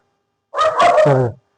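A single short dog bark, close and clear, with a brief whine at its end, surrounded by silence.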